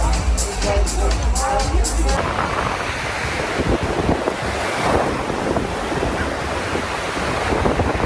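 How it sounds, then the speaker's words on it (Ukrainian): Steady gusting wind roars over crashing surf on a beach at Nessebar, Bulgaria, loud and continuous, with a brief burst of something tonal at the start. "Піднявся вітер."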